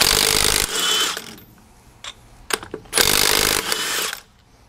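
A Milwaukee mid-torque cordless impact wrench hammers on a car lug nut in two loud bursts of rapid rattling impacts, with brief clicks and handling noise between them.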